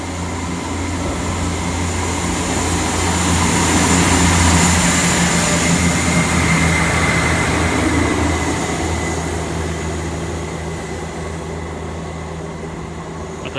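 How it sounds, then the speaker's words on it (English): A South Western Railway class 158 diesel unit, number 158881, departs Southampton Central, its engine drone and rolling rumble swelling to a peak and then fading steadily as it pulls away. "Got this Southwestern Railway departing the 158"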